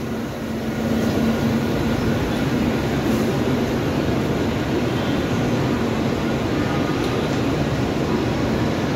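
A Mumbai local train departs Churchgate station, setting up a constant broadband rumble after a slightly quieter first second; the running noise stays even and close throughout, with no talk.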